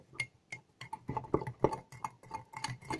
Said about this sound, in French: Vous mélangez jusqu'à ce que ça soit homogène.